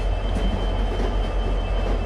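A heritage train runs along the railway with a steady, close rumble of carriages and wheels and a faint high whine over the low drone.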